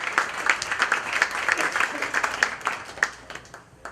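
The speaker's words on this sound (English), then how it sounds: "Give this gentleman a round of applause as it goes back to the audience." An audience at a Florida mentalism show applauds a gentleman volunteer, a dense, lively burst of many hands clapping with sharp peaks throughout, tapering slightly at the end.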